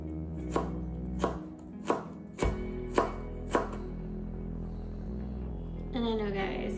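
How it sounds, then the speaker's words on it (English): A knife minces ginger on a cutting board in six sharp, evenly spaced chops, close and distinct over a steady low background hum. "I'm just gonna go ahead and mince this up really quick"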